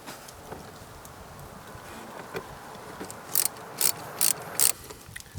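Intake hose clamps being loosened on a car engine, heard as soft ratcheting clicks followed by four sharp, evenly spaced metallic bursts close to the microphone.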